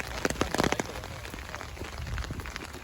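Steady rain falling outdoors on a rainy spring day in Japan, a dense patter of drops on surfaces with sharper nearby splashes early on, continuous and fairly close, with no talking.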